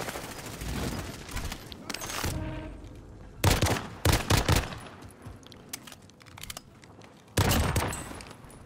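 Bursts of automatic gunfire and rapid weapon shots in Call of Duty Modern Warfare on Rebirth Island, with loud volleys separated by quieter gaps and faint game ambience between them.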